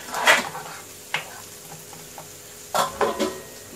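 Masala spices roasting and being stirred in a pan while tomato chutney is cooked, with soft sizzling and a few distinct scraping stirs coming in short bursts.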